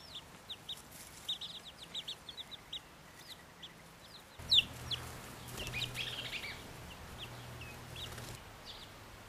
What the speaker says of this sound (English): we're up to 25 chickens this year because I just got 8 new chicks